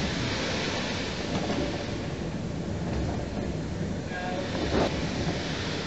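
A train carriage setting off from Loughborough, heard from inside as a continuous low rumble and rushing roar of wheels and motion, with faint clicks and creaks over the steady noise.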